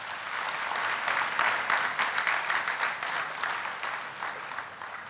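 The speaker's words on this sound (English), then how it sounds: "I think they deserve another round of applause" Audience applause for the panelists at a public forum on national unity and governance, a continuous wash of many hands clapping at moderate loudness for about five seconds, slightly tapering at the end.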